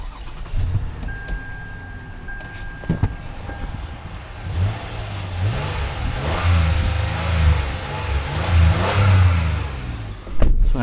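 A Lexus RX350 engine idles up close, then is revved several times in rising and falling surges, with a few clicks and a knock near the start.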